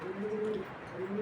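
Racing pigeons coo softly, a low rolling call that swells, pauses briefly and returns, heard faint and close with no talking.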